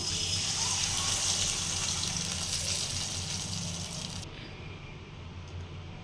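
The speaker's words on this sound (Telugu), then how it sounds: "మీ ముందునే ఒక గ్లాస్ పోస్తున్నాను" A glass of water is poured into a pan of browned fried onions while making rice rava upma, a steady close gushing stream that runs for about four seconds and then cuts off, leaving a faint low hum.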